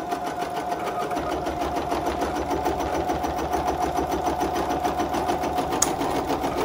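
A Bernina 880 Plus embroidery machine with a mega hoop stitches the cutting line of a small fabric face mask, a fast, even mechanical chatter that runs steadily and loudly throughout with a faint click near the end.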